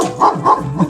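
A dog inside a small corner shop in Panama, watching chickens, gives three quick, close barks in a steady rhythm.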